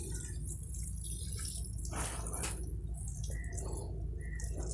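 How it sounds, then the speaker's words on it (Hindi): Water sprinkled from a shower can onto sand covering buried ginger, a steady soft hiss and patter of droplets that swells briefly mid-way, heard up close without talk. "फिर आपने ऐसे शावर के साथ इसको पानी देना है"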